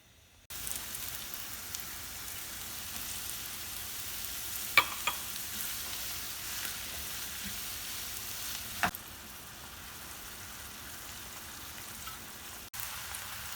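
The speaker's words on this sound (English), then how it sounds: "I'm going to throw in our onions. And we're just going to saute those till they're just" Onions sautéing in melted butter in a pan, a soft continuous sizzle like light rain, with a few faint clicks of utensils scattered throughout.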